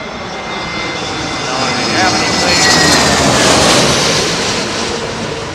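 A jet airliner passes low overhead on arrival at London Heathrow, runway 27L; its loud roar swells to a peak partway through, then eases off slightly.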